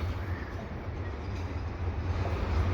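A CPKC eastbound intermodal freight train passes on an evening at Dorval, giving a steady, even low rumble of rolling cars that holds at constant loudness throughout, with no voices.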